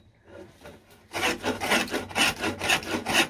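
A sharp hand saw cuts through wood in steady, rhythmic back-and-forth rasping strokes, loud and close, following a quieter start.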